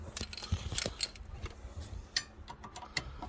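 A brake caliper sliding off the rear disc of a Hyundai i-series car with an electric handbrake, heard as close metallic clicks, scrapes and small knocks in an irregular sequence, with no talk.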